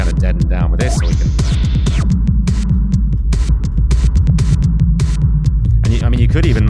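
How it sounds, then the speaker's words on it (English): A throbbing synthesizer plays pulsing low notes and rising sweeps, washed in a filtered, smeared reverb tail, loud and continuous. "we've got this sort of filtered reverb thing going on as well"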